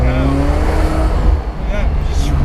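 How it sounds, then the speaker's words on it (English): A turbocharged convertible, driven with the roof off, gives a short, loud release of air from its wastegate, like a small blow-off valve, over the close engine drone. A voice talks at the same time. "you can hear the wastegate exit a bit of that air. It sounds like a mini blow-up valve"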